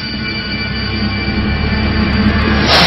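A train at Semarang Tawang railway station, a steady rumbling rail noise with low mechanical drone held at a constant level for a few seconds, ending in a brief hiss.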